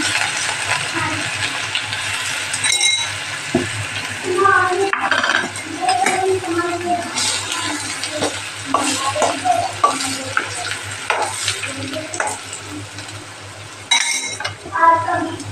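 Ginger-garlic paste fries in oil for a Kathiyawadi chana dal and bottle gourd dish, a sizzle broken by frequent metallic clinks and scrapes of a spoon against the pan, with some voice in the background.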